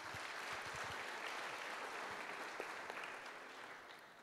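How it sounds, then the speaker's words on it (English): Steady applause from a crowd, a dense wash of clapping that holds for several seconds and then slowly thins. "Shall we give him another round of applause"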